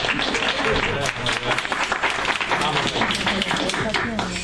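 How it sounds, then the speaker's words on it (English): Applause fills an academic conference hall on law and society in Latin America, a dense and steady round of clapping from a seated audience under a speaker's voice. "you should definitely give it an applause"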